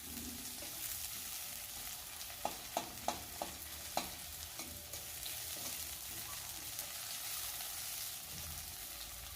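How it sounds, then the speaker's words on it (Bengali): Onion paste sizzles in hot oil in a pan, with a soft steady frying hiss and a few sharp clicks of a utensil scraping and stirring, quiet and close. "তো দেখুন কিছুক্ষণ নাড়াচাড়া করে নিয়ে আমি পেঁয়াজ বাটাটা দিয়ে দিলাম"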